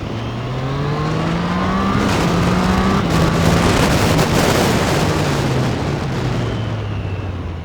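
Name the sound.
Triumph Street Triple motorcycle accelerating on race track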